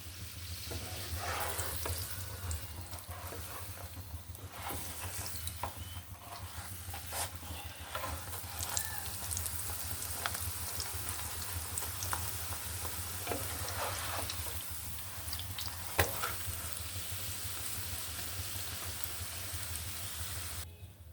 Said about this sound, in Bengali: আপনারা এখানে তেল দিয়েও ভাজতে পারেন বাটার দিয়ে যে ভাজতে হবে তার মানে নেই